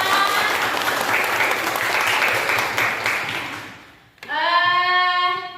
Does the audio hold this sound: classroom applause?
yes